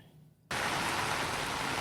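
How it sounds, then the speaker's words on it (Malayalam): Heavy rain in Kannur district along the Thalassery–Mahe bypass, a dense steady roar that cuts in abruptly and continues loud and unbroken, with no voices. "കനത്ത മഴയാണ് കണ്ണൂർ ജില്ലയുടെ വിവിധ ഭാഗങ്ങളിൽ കഴിഞ്ഞ കുറേ മണിക്കൂറുകളായി തകർത്ത് പെയ്തുകൊണ്ടിരിക്കുന്നത്"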